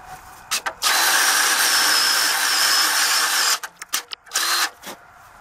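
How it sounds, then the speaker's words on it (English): A power drill bores holes to carriage-bolt size in a camper build frame: a short whirr, then a steady high-pitched drilling whine for about three seconds, followed by several brief stop-start bursts, close and alone. "all you have to do is bore them out to size for your carriage bolt"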